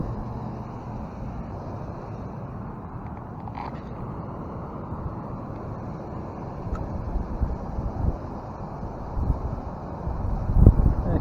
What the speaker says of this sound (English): The wind's kind of picking up right now.